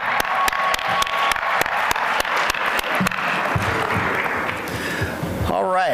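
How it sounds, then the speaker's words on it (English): Awards ceremony audience applauding, rhythmic near claps at first blending into broader crowd applause, with a voice speaking over it toward the end. "Hey, let's clap."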